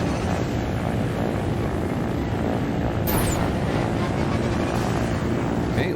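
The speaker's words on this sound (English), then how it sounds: "Let's go ahead and get the rocket out here. And we'll get a little bit of height" Rocket engine thrust on a craft in the video game Trailmakers, a steady loud roar filling the whole clip with a brief rising whoosh near the middle.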